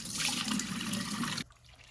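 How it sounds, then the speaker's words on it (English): Water poured out of a bowl of soaking beef splashes in a steady, fairly loud gush for about a second and a half, then cuts off abruptly to near quiet. "Let's pour out the water and squeeze them."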